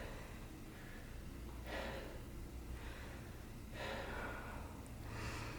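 Heavy, labored breathing from a cyclist at a summit after a hard bike climb, with several loud gasping breaths roughly every two seconds over steady background noise, close to the microphone and with no talking.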